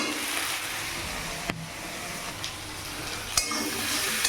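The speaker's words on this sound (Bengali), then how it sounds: "পেঁয়াজটা ভাজা হচ্ছে" Onions frying in oil with crushed garlic, an even, close sizzle and hiss throughout, broken by a few sharp knocks of a spoon against the pan, with no talking.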